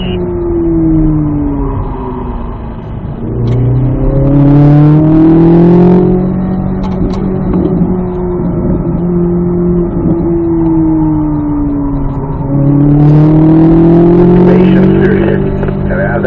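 Race car engine accelerating on a track with a driving coach, loud and close throughout, pitch rising and falling through throttle and coasting phases as the car rotates through turns; someone talks intermittently over the engine.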